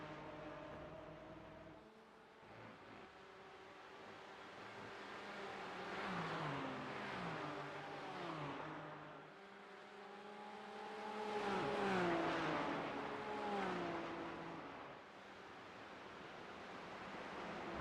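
Race cars lap the MoSport circuit, engines rising and falling as several cars pass in turn, each one whining up through the gears and fading away, with revving swells at a middle distance.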